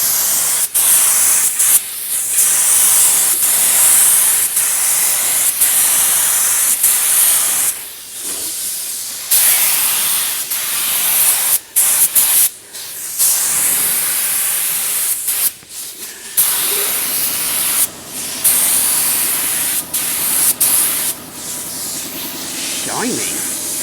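A spray gun hisses loudly and close as a heavier second coat of paint goes onto a Mercedes truck, with long sustained blasts broken by brief pauses where the trigger is released.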